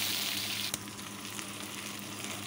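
Shrimp frying with ground spices in a pan for a village-style Bengali jackfruit curry, a steady close sizzle throughout with one brief clatter early on.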